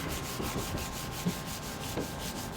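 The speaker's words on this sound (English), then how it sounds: "I used an all-in-one clay lubricant and iron traffic film remover with a synthetic clay towel." A synthetic clay towel with lubricant rubbed over the paint of a 2020 Lexus NX, a steady soft scrubbing swish in rhythmic back-and-forth strokes, close and moderately quiet.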